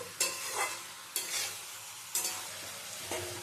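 Potato and okra sautéing with spices in a pan over medium heat for a bhindi aloo dopeyaza, with four sharp stirring scrapes about a second apart over a steady sizzle, close and alone.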